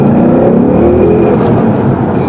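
The engine of a 2017 Ford Mustang GT Premium purrs, a loud, steady low rumble heard close up from inside the car during a drive, with no talk.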